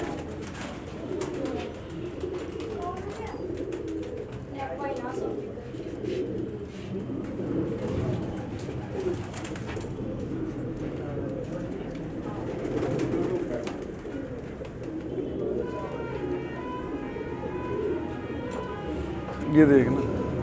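Pigeons coo in low, repeated burbles close by in a loft at a pet shop in Loni, Ghaziabad, while someone talks over them almost the whole time.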